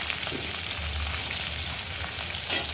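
Green chillies fry in a pan for dal palak, making a continuous dense sizzle and crackle that stays close and even, swelling slightly near the end, with nobody talking.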